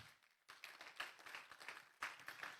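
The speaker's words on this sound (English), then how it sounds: "Clap for yourself." Scattered clapping from a seminar audience, quiet and somewhat distant, building into steady applause with a couple of louder swells.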